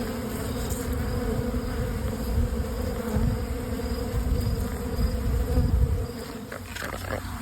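A dense swarm of honeybees robbing an open hive, stripping wax cappings and taking nectar, fills the air with a loud, continuous close-up buzzing that holds steady throughout and thins out near the end.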